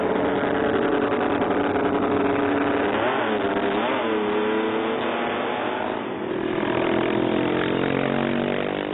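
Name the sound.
V8 racing motorcycle engine running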